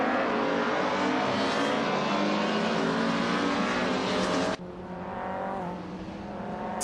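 Several race cars roar loudly in a racing video game, engines screaming as they overtake, with a sharp cut midway to a slightly quieter continuing engine drone.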